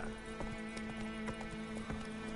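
Hooves beat in a quick, steady galloping rhythm over a droning background, as a horse runs at speed in The Witcher 3.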